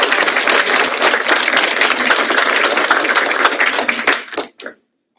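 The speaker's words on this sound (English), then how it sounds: "I would like you to give them a round of applause." An audience at a Washington County Board of Commissioners meeting claps loudly and steadily for several seconds before the applause thins and stops abruptly, leaving near silence.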